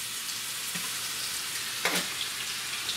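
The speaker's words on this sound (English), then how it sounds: "Ah, yes, it is sizzling." Steady, hissing sizzle of a rib eye steak frying in a hot pan, continuous and close, with a faint clink partway through.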